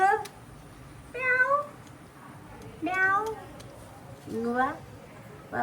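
A cat meows repeatedly indoors at home, several distinct drawn-out calls spaced a second or two apart, moderately close with faint background noise.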